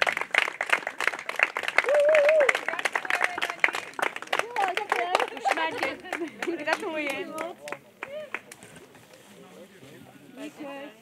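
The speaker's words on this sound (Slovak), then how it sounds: "Poprosím ešte raz veľký potlesk pre Zuzanu," An audience applauds the women's over-50 category winners at the Buď FIT! Nie len IT! 2024 results ceremony. A crowd claps steadily after a voice speaks, then the clapping thins and fades.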